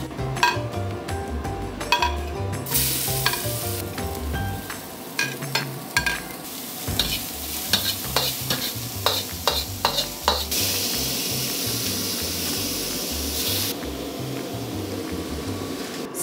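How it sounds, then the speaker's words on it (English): Pork adobo fries in a very big cooking pan while a utensil stirs and scrapes it, giving a steady close sizzle broken by repeated metallic clinks and clatters. "so we are going to cook now the pork adobo"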